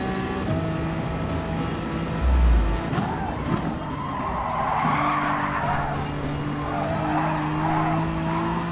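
A Honda NSX in GT Sport slides sideways with a drawn-out tire squeal over a steady engine drone, loud and close, the skid rising and fading across several seconds.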